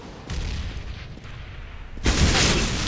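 Gunfire in a Counter-Strike: Global Offensive match on the Mirage map: a low, steady rumble of distant shots, then a louder, brighter burst of rapid fire near the end.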